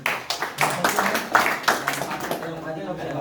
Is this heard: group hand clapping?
yes